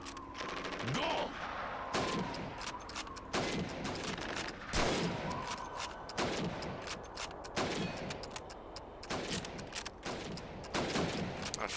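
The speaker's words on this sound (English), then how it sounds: "You have 15 seconds to shoot the helmets." Rapid rifle gunfire in Call of Duty 2 as helmets are shot at against a timer in a training course: repeated sharp shots in uneven bursts across the whole stretch, loud and close.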